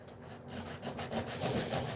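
Continuous abrasive rubbing of sandpaper on fiberglass during a door repair, in short back-and-forth strokes, close by and moderately loud, with no talking.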